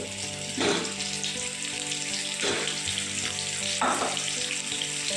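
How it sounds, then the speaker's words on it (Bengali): Pointed gourd (potol) pieces sizzle in hot oil in a pan, a steady crackling fry with three louder bursts of spitting as pieces are added or shifted, no talking. "এবার আমি পটলগুলো এর মধ্যে একটা করে দিয়ে দেবো, ভেজে নেবো পটলগুলোকে"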